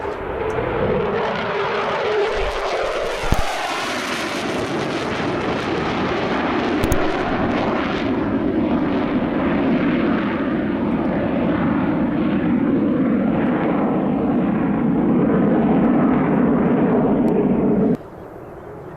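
Loud, sustained roar of an aircraft passing near an airbase, a steady broadband rumble that holds for most of the stretch before cutting off abruptly near the end.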